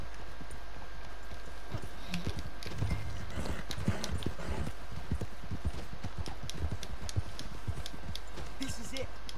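Horse hooves clip-clopping in a steady trotting rhythm in the video game Red Dead Redemption 2, close and fairly prominent over a constant ambient background, with several hoofbeats following one another.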